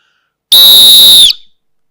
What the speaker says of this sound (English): that's my whistle